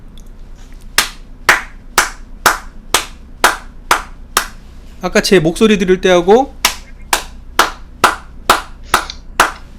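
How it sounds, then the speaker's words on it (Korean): Single slow hand claps at a steady rhythm, loud and close, during a Buddhist study gathering; someone speaks briefly midway between claps. "이 박수 소리하고 똑같은 자리에서 듣고 있어요"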